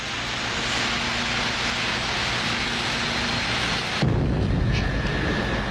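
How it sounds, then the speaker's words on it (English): An SR-71 Blackbird's huge jet power plants being spun up by a pair of 454 cubic inch Chevy starter engines on the tarmac give a loud, continuous broadband roar, which shifts abruptly to a harsher, rumbling tone partway through. "each of the SR's huge power plants requires a jump start from 2 454 cubic inch Chevy engines"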